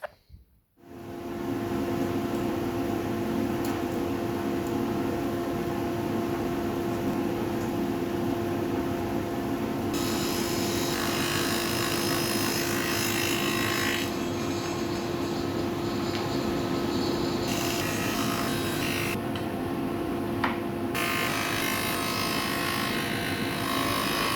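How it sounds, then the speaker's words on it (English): A power tool cuts a series of dados in formply panels for a custom bookshelf, a loud continuous whining drone that starts abruptly and runs steadily, with the pitch and texture shifting as the cutter bites in and eases off. "let's go ahead and cut a whole heap of dados"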